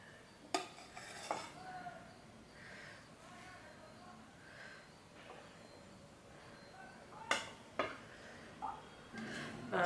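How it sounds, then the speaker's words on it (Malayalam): Cooked rice being served onto plates with a serving spoon, quiet and close, with a few sharp metal clinks of utensil against steel plate and bowl between soft scraping. "ആദ്യം തന്നെ നമുക്ക് ചോറ് വിളമ്പാം."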